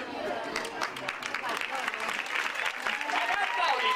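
An audience at a farm show at Oltremare claps in a dense, continuous patter of applause at moderate distance, with voices talking over it.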